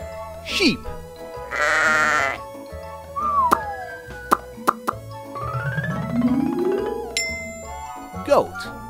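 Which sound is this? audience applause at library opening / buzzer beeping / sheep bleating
sheep bleating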